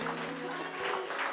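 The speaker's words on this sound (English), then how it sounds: "Je crois qu'on peut applaudir ça" A studio audience applauds at a Marvel cast press event, steady clapping filling the whole short moment with a steady hum underneath.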